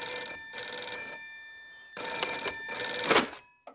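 Cartoon telephone bell rings in repeated electronic bursts, two rings then a pause and two more, clear and alone with no talk over it.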